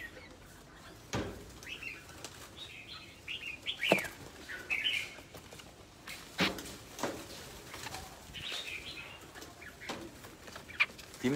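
Birds flapping their wings with a few bright chirps, several sharp wingbeat bursts spread through a steady outdoor background, moderately close but not loud, with no talking.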